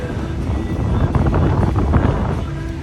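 Wind blows across a beach at sunset. It makes a steady, loud, low roar that buffets the microphone throughout and drowns out any other sound.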